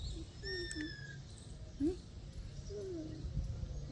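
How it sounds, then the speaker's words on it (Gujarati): Sparrows and koels call in the early morning, faint and distant: a few thin whistles, short rising notes and a repeating warble rise over a quiet background hum, with no one speaking. "ચકલા બકલા ને કોયલું બોલે છે રહ્યું."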